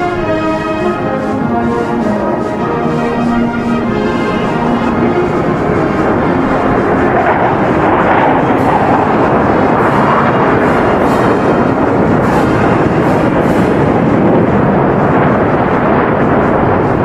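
Military jets, J-11 fighters among them, roar loud and sustained overhead during the 2009 National Day parade in Beijing. The rumble grows steadily to a broad, dense roar, with a faint voice beneath it at the start.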